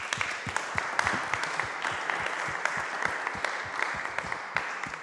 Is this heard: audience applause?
yes